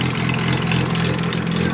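A Mazda RX-7 rotary engine, freshly rebuilt and on first start-up with a suspected exhaust leak, runs steadily and loudly up close with a rough, buzzing drone and no pauses.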